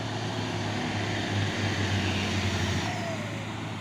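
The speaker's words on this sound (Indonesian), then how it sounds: "Masuk lagi truk tangki" A tanker truck drives in with a steady low engine drone and rumble, continuous and moderately close, set against broad background noise at a truck recovery site.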